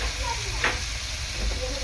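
Bombay duck fish pieces go into sizzling spice paste in a pan, a steady close frying hiss rising into one brief louder burst of spitting before settling back.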